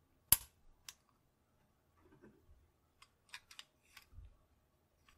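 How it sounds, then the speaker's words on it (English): A Colt 1903 Hammerless pistol is dry fired. One sharp metallic snap is followed by a few quieter clicks and mechanical rattles, spaced apart, close and quiet. "Now with the trigger free to reset, it can be dry fired."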